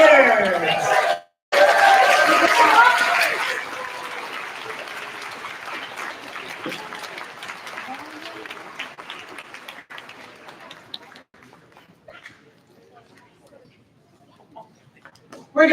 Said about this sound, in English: Let's have one more big round of applause for our wonderful third graders